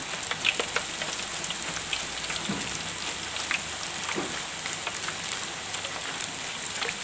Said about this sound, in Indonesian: Goreng sambil diaduk-aduk